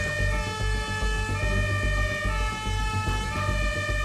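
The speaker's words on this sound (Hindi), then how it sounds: "ऑयल कंपनी शेल की जर्मनी में मौजूद एक रिफाइनरी में तरबियती अलार्म।" A fire brigade's training alarm siren sounds at a Shell oil refinery in Germany, a loud sustained tonal wail with strong harmonics and a slowly shifting pitch, with no voices.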